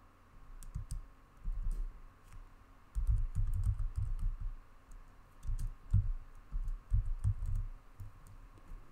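A computer keyboard in a dim room, typed on in several close bursts of rapid key clicks separated by short pauses, with a faint steady hum underneath.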